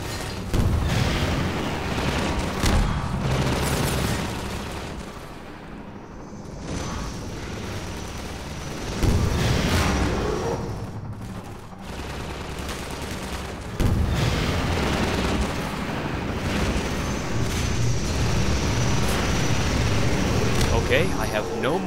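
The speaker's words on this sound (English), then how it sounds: "What I like to do in this area is use 3 rockets on him." Rocket launcher blasts in Half-Life 2 hit a combat gunship over Highway 17: three heavy, booming explosions spaced several seconds apart, each with a rumbling tail, over continuous game background noise.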